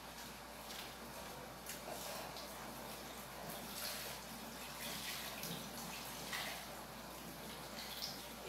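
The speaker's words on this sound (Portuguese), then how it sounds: "Pegar água torneiral mesmo." Tap water runs steadily from a faucet during homemade soap making, a soft, even hiss that stays low and continuous throughout with no talking.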